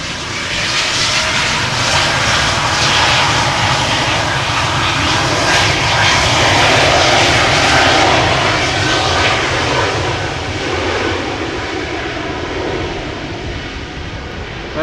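A KLM jet airliner departs Amsterdam Schiphol Airport, its engines a loud, close, sustained roar that swells and holds before easing slightly as it climbs away.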